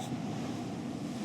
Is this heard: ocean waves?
yes